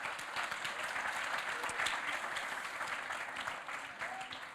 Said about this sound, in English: So please, let's give them another round of applause.